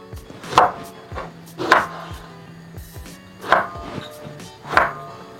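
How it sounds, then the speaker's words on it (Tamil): Four sharp knife chops on a cutting board, spaced unevenly, close and fairly loud, slicing through eggplant with faint kitchen noise between strikes. "இந்த கத்தரிக்காயை வெட்டி அதுக்குள்ளே போட போகிறேன் தண்ணிக்குள்ளே."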